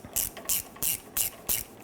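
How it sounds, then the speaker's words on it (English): A ratchet tightens a hose clamp on a 2006-2010 Hummer H3 3.7L during a thermostat and housing replacement. Six quick, evenly spaced clicking strokes, close and fairly quiet. "I'll go ahead and tighten down the clamp."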